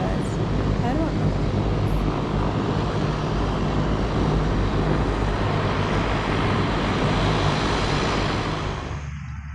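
An airplane roars down a runway on its takeoff run. The loud, sustained engine noise fills nearly all of it and fades slightly at the very end, with people's voices faintly mixed in.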